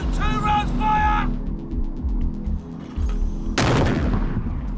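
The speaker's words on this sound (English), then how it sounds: "if the regiment comes under attack, they can use the 81mm mortars" 81mm mortars firing rounds in Afghanistan, deep heavy booms thudding near and loud, one rising into a sharp blast near the end, with voices and a brief whistle-like tone heard early on.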